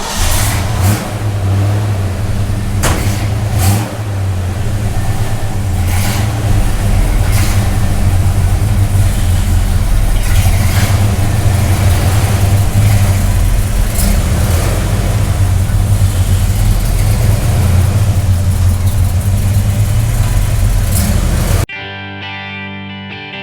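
A 1966 Chevrolet C10 pickup with a three-on-the-tree column shifter pulls out, its engine rumbling steadily and loudly up close for about twenty seconds, with rising revs before the sound cuts off abruptly.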